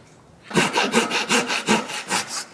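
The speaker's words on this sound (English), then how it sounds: "I have my flush cut saw flush with the top of the seat, and I'm just gonna start sawing" A flush cut saw cuts a chair leg flush with the seat top in about eight steady, rasping back-and-forth strokes, close and loud after a brief quiet start.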